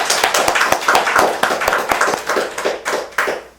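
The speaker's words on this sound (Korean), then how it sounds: "우리 박수 한번 치고 넘어가죠" A small audience applauds at a Korean Buddhist Dharma talk, a rapid patter of many hands clapping close by and fairly loud, thinning out toward the end.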